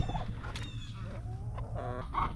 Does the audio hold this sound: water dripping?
no